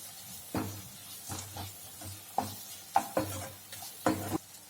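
Repeated scraping stirs of frying tomato masala in ghee in a pan over a steady sizzle, each stroke brief and close, with a faint clink now and then.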